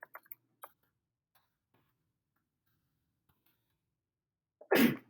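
A single sharp sneeze bursts out near the end after near silence, preceded by a few faint clicks and taps.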